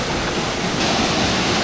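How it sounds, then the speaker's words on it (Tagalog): Powerful rushing water roars steadily from the top of a forest waterfall, a loud, dense wash of noise filling the whole clip with no voices. "para maipakita namin sa inyo yung pinakadulo ng falls, kung gaano na kalakas"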